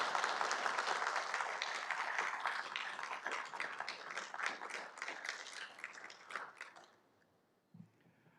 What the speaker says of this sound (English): And I will allow applause during this particular moment.